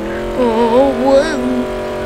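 An ATV engine in the video game Mad City revs in short bursts, its tone rising and falling over about two seconds.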